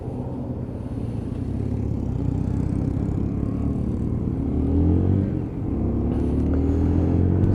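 A Lexmoto ISCA motorbike engine drones steadily while riding, a low rumbling hum that rises and falls in pitch as the throttle changes, with a brief dip before climbing again; no talking.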